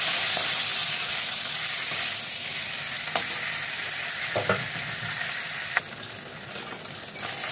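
A hilsa fish head fries in hot oil, a loud continuous close sizzle with a few sharp spatters and pops partway through.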